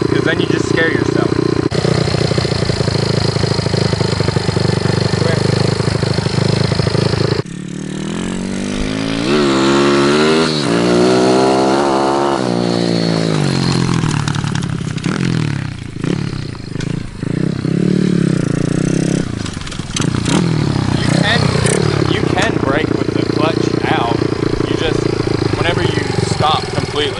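A dirt bike engine runs loud and close as a first-time rider learns the clutch, a steady buzzing drone with revs rising and falling in the middle, over constant background noise.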